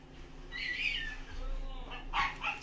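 Puppies barking and yipping in the background indoors, a few high, short yelps in two bursts, faint and somewhat distant, over a low room hum with some voice.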